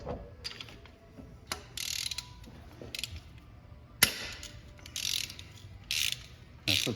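A 1/2 inch drive ratchet with a 5/8 socket working spark plugs loose on a 2011 Jeep Wrangler 3.8, short bursts of close, crisp pawl clicking separated by pauses, with one sharp crack as a plug breaks free.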